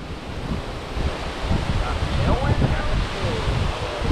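Wind blows outdoors at a disc golf tournament, a continuous loud rushing gust buffeting the microphone, swelling and easing with low rumble throughout.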